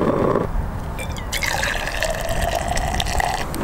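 Water pours and fills a pot or kettle for coffee inside a camper van parked at Padre Island, a close trickling stream with splashy changes in pitch as the vessel fills.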